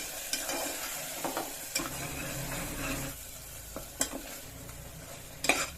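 Ground masala for tomato bath, with peas already frying, being mixed and fried in a pan: a soft, low sizzle with scattered spoon scrapes and taps, close and fairly quiet, nobody talking.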